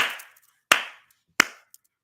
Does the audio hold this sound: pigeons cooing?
no